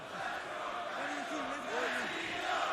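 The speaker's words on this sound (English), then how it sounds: "This crowd still watching it, cheering on both sides" A wrestling crowd at ROH Supercard of Honor in Dallas, Texas keeps up a steady, distant roar of cheering split between both sides, with a commentator's voice talking over it throughout.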